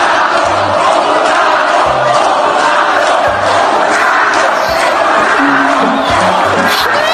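A large crowd boos politician Maria do Rosário at her diploma ceremony, a loud, dense roar of jeers sustained from start to finish with no clear voices standing out.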